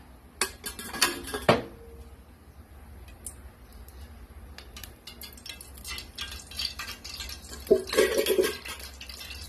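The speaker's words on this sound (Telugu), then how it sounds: "ఇప్పుడు స్టవ్ వెలిగించేసి కడాయి పెట్టేసి సరిపడంత ఎంత కావాలో అంత నూనె పోసుకొని" Stove being lit, a kadai set down and oil poured for Telangana-style tomato charu: a clatter of metal pan and utensil knocks early, scattered small clinks, then a short bright burst of pan clatter near the end, no talk.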